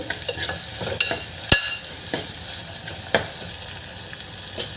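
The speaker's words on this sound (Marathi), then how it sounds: "हा कांदा आणि वाटण छान आपल्याला याचा रंग बदलेपर्यंत, छान ब्राऊन होईपर्यंत याला होऊ द्यायचं आहे." Onion and ground masala paste sautéing in a pan for a Maharashtrian green peas curry: a steady close sizzle with spoon scrapes and stirring clicks through the whole stretch, plus one sharp knock.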